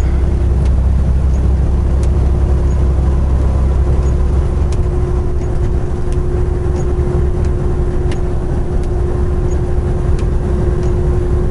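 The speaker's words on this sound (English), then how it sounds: "you'd be idling that truck like I do" A truck engine idles in the cab on a Chicago-area run, giving a loud, steady, unbroken low drone with a constant hum and no talking.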